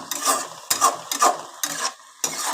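Greens (saag) being mashed and mixed together by hand, a series of soft wet squelching and slapping pushes in a steady uneven rhythm, close and fairly loud.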